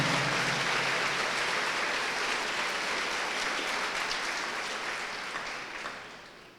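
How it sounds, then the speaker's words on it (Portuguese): Congregation applauding in a church during a Easter-themed service, a broad, even roar of many hands clapping that stays steady and then gradually tapers off. "dê a Ele o seu melhor aplauso"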